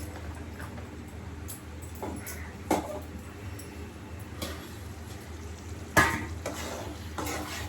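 Steady sizzling of spices tempering in hot oil in a kadai for pepper chicken, with a few sharp clinks and stirring scrapes of a ladle against the pan.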